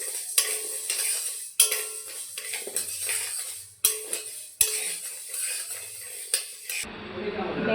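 Dal being dry-fried in a pan for a vegetarian mango dal, with a spoon scraping and stirring in repeated strokes and clinks over a soft, steady sizzle, close and fairly loud.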